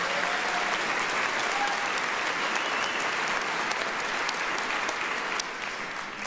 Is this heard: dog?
no